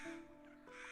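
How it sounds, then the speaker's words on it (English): A crow squawks in a fantasy game setting, a harsh raspy call that stays loud and steady for under a second with no talk over it. "do I notice the squawk"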